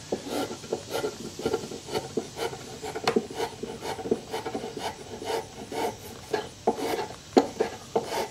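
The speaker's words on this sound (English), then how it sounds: "I'm just kind of working down the high spots with a spoke shave here, getting this bottom shaped a little bit better." A spokeshave shaves the bottom of a poplar dough bowl in quick, rhythmic rasping strokes, each a short scraping burst repeating about every half second, close and moderately loud.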